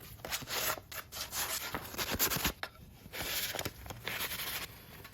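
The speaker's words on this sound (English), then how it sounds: "got the 320 and I am just going to give a quick sand just so it's not so rough" Hand sanding of a painted wood plaque with 320-grit sandpaper makes a continuous, quick back-and-forth rubbing scratch, close and fairly soft, with no voices.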